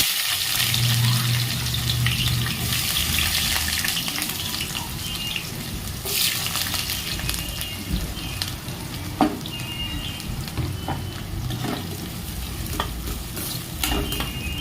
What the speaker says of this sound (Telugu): ఆయిల్ హీట్ ఎక్కింది ఇప్పుడు ఇందులో ఆనియన్ పచ్చిమిర్చి వేసుకుంటున్నాను